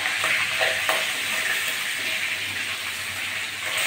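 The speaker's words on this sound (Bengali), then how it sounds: "এক খোলা ভেজে তুলে নিয়েছি" Pieces of rohu fish fry in hot oil with a steady, close, broadband sizzle that continues throughout, with a few faint clinks of utensils and no talking.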